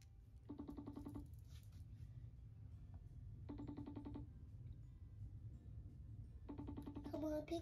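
A telephone ringback tone sounds while someone calls from home, three short bursts spaced about three seconds apart over a steady low hum and faint background noise.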